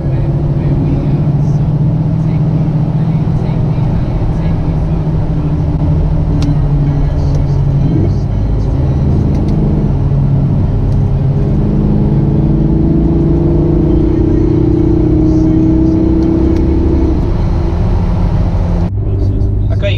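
A white LLY Duramax pickup truck driving fast, a steady loud diesel engine rumble and road noise heard from inside the cab, with someone talking over it.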